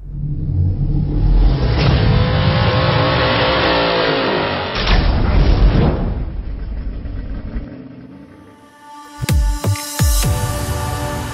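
A 2019 Haval H9 SUV's engine revs and accelerates loudly with a rising whine on a test drive, then eases off, followed by a few sharp mechanical clunks near the end.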